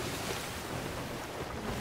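Ocean water and waves in the pirate video game Sea of Thieves, heard while sailing: a steady, full wash of surf and rushing water with a windy roar, continuous and close, with no talking.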